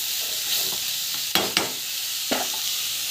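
Chili powder sautéing in a pan, a soft continuous sizzle broken by a few sharp spoon scrapes against the metal.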